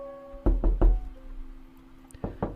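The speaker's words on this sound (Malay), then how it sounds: "nanti akan dengar bunyi orang main ketuk-ketuk pintu" Knocking on a door inside a house at Amber Court, Genting Highlands: three sharp, close raps in a quick run, a pause, then two more knocks, heard alone with a faint steady hum beneath.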